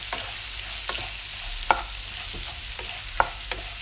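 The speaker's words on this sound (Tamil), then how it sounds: "நம்ம நறுக்கி வச்ச வெங்காயத்தை போட்டு நல்லா வதக்கணும்." Chopped onions with half a tablespoon of turmeric are stirred and sautéed in a pan for poori masala, giving a steady close sizzle broken by a few soft scraping strokes of the spoon, with no talking.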